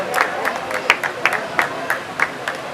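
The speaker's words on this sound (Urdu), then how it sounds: "میں درخواست کروں گا بہت بہت تالیاں نال استقبال بھی کرو۔" A small crowd at an outdoor May Day labour rally by a press club claps sparsely to welcome a speaker, the claps irregular and moderately close, with faint background murmur.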